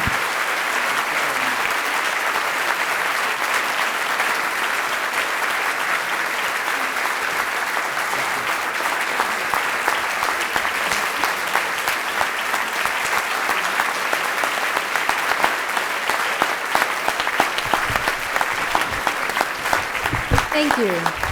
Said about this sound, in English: I will cut short your applause